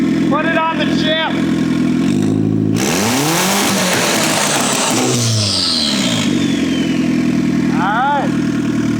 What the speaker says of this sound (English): The Camry is back up and running.